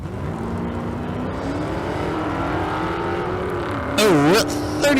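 Drag-racing engines at the Street Car Super Nationals in Las Vegas, a 1984 Ford Mustang with a 460 and a 2016 Hellcat Challenger, roar loudly and steadily, with a sharp rising rev burst near the end.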